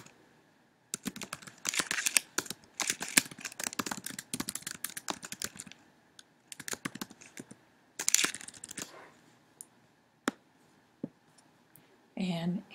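Rapid typing on a computer keyboard while entering text into a Google Slides text box, dense bursts of close key clicks with short pauses between words.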